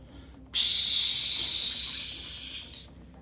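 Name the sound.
butter sizzling on hot surface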